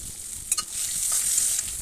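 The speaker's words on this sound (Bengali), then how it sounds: "লাল লাল লাল করে মাছগুলো ভাজা" Rohu fish pieces frying in hot oil in a home kitchen, a steady loud hiss of sizzling with a few brief clatters of turning and stirring near the start, no voices.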